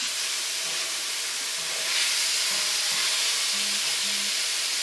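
Meat sears in a pot on the stove, a loud, steady hiss of fat sizzling up close that swells slightly partway through, with faint low taps of stirring underneath.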